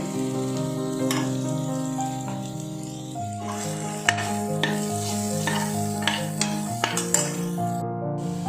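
Curry leaves and salt being stirred into a sizzling pan of pudina pulao, a steady frying hiss under repeated scraping strokes and sharp metallic clinks of a spoon against the pot.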